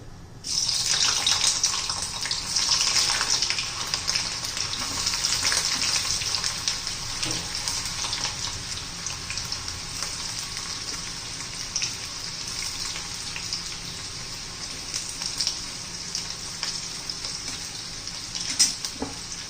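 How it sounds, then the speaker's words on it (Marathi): Paneer pieces fry in hot oil, giving a steady, moderate hiss and crackle that holds throughout with no voices. "त्याच्यामध्ये आपण पनीर तळून घ्यायचंय."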